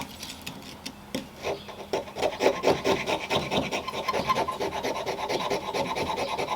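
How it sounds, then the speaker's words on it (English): The 90-degree spine of a Victorinox saw scrapes fatwood in a steady run of dry, rasping strokes, close and fairly loud, growing more vigorous and rhythmic as it goes, with no talking. "I'm going to use the back of the saw to scrape."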